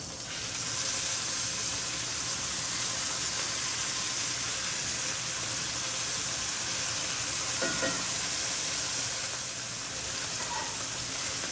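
Rib-eye steaks fry in cast-iron pans with beef tallow, giving a loud, continuous close sizzle and hiss, with a few faint scraping and clinking touches midway and no talking.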